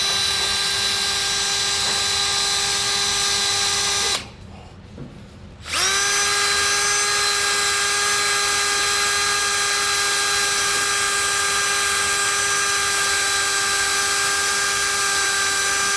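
Loud, continuous high-pitched whine of a drill driving a 1 1/8 inch hole saw into the steel frame of a 2019 Nissan, with a brief pause before it spins up again and keeps cutting.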